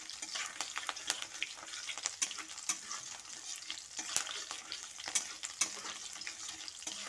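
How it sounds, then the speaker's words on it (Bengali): Garlic and green chillies frying in oil in a pan while making a cauliflower and potato dish, a quiet steady sizzle broken by sharp clinks and scrapes of a spatula stirring. "এবার রসুন আর কাঁচা লঙ্কাটা দিয়ে আরও খানিকক্ষণ ভেজে নিচ্ছি"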